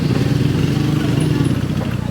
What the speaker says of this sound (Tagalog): Ay, yung motor.